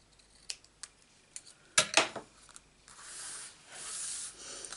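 Scissors snip several times in quick, close, crisp cuts, including a louder double snip, followed by a softer rustling hiss as the cut material is handled.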